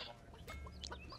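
Chicken clucking in a video game, a few short, quiet clucks in quick succession over a faint game background.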